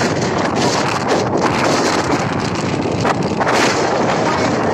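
Strong wind buffets the microphone with loud, constant roaring gusts, no other sounds clearly audible.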